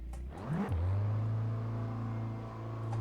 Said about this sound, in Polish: Zobaczymy sobie jak przyspiesza.